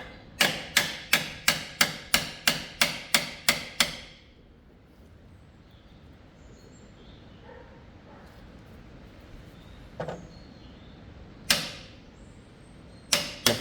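A fast burst of about ten sharp hammer strikes on a part of a Ford 6610 tractor during servicing, then quiet shop background with a few scattered later blows.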